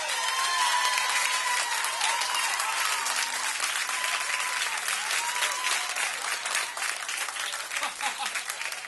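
A pub crowd at a Newfoundland music show claps loudly and steadily for a performer, a dense wash of applause with a few voices mixed in that eases slightly toward the end.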